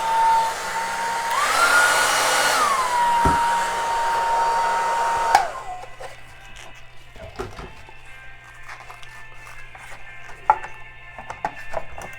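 A wall-mounted hair dryer whirs steadily for about five seconds, its pitch rising briefly, then cuts off, leaving quiet clicks and faint handling noises.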